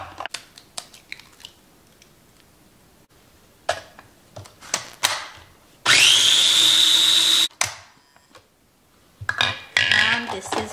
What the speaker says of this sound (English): I beat it in the food processor